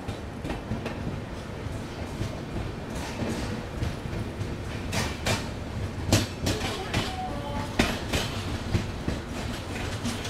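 A Jaipur-Delhi double decker train at a railway station gives a steady, loud rolling clatter of wheels and carriages, with sharp clanks and knocks scattered throughout.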